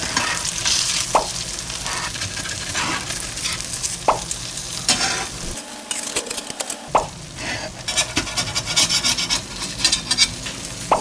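Egg tofu pan-fries in a stainless steel pan with a steady crackling sizzle, broken by sharp spatula scrapes and taps and one brief lull, heard up close with no talk.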